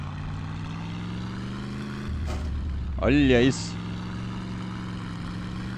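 A V8 tractor engine in the game My Summer Car drones steadily while someone talks, then a gear engages with a sharp clunk followed by a brief whining, warbling mechanical sound before the drone settles again.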